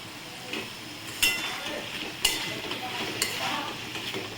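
Ground turmeric, chili, cumin and coriander fry in a pan for ol chingri, a steady sizzle broken by a few sharp scraping strokes of stirring at roughly one-second intervals.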